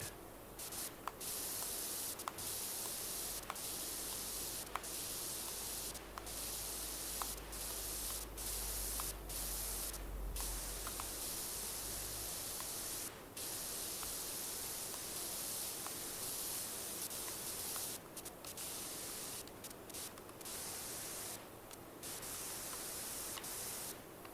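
Steady hissing pressure-washer spray from PowerWash Simulator runs almost nonstop, loud and close, with brief breaks and a low rumble partway through; no talking.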